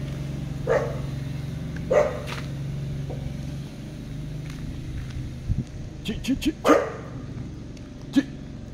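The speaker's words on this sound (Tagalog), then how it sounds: "Hinahabol tayo ng aso. Ayun, inaamoy-amoy tayo." A dog chasing and sniffing close by barks sharply a few times outdoors in a housing area in Naic, with scattered yips and a low engine hum in the background.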